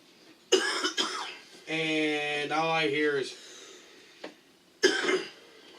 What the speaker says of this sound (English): Quit coughing.